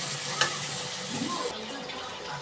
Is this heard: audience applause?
no